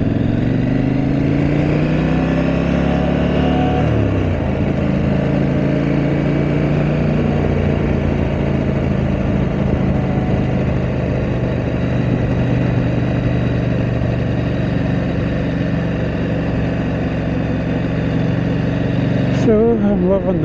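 A KTM 890 Adventure R motorcycle engine drones steadily while riding through Scottish countryside. It is loud and continuous, with a pitch shift early on like a gear change and a brief sharp noise near the end.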